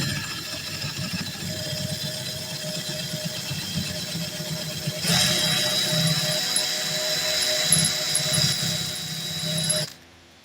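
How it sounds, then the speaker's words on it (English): A power drill bores through parts of an e-bike lithium-ion battery pack in a steady, close whine that grows louder and harsher midway, then stops abruptly. "I'm gonna drill this in line together."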